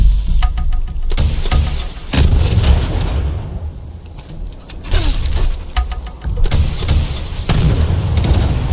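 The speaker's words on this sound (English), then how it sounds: "I think this calls for the rocket launcher." A rocket launcher fires in Fallout 76, loud booming blasts followed by heavy rumbling impacts, repeating several times with game noise between them.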